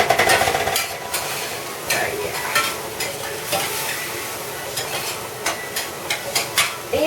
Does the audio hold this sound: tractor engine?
no